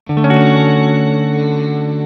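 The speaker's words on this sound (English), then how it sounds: "check out Dr. Octopus's favorite reverb, the JHS Octave Reverb" Electric guitar run through a JHS Octave Reverb pedal from the affordable 3 Series, a sustained chord with shimmering octave-up reverb swelling and ringing out loud and steady on its own.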